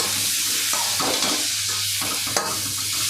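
Beetroot roast being stirred in a frying pan, a spoon scraping through the pieces in several distinct strokes over a constant sizzle of oil, close and fairly loud, with no talking.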